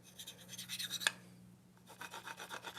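Knife sharpened by hand on a Venev stone, an M4 steel blade drawn in repeated rasping strokes, a steady back-and-forth scrape with one sharp tick and a brief pause midway, close and fairly quiet with no talking.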